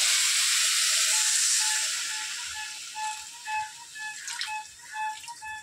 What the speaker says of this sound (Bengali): এটা সেদ্ধ হওয়ার জন্য একটু জল দিয়ে দেবো।